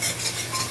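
Black cumin, turmeric and chili powder sautéing with a splash of water in a pan, a brief steady sizzle with soft stirring scrapes, close and loud.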